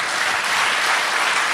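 Audience applause after a Hindustani classical vocal concert: a thick, continuous roar of many hands clapping at once, loud and even from start to finish.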